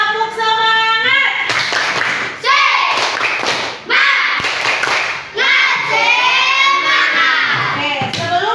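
Schoolchildren in a classroom chanting a spirit clapping routine, with loud rhythmic bursts of claps broken by pauses and children's voices calling out between them.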